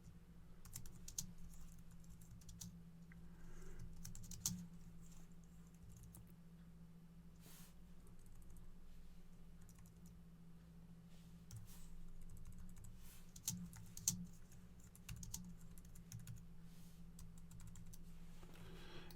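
Keys clack on a computer keyboard as text is entered into a website post editor, a quiet, uneven run of light taps over a steady low electrical hum, with no voices.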